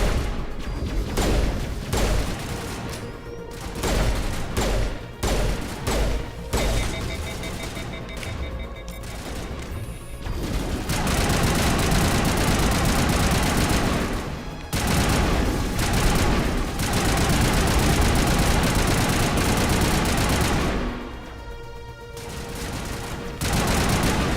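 Pistol fire in the Mass Effect video game: rapid, dense volleys of gunshots and blasts fill most of the stretch, loud and close, with brief lulls between bursts and no talk.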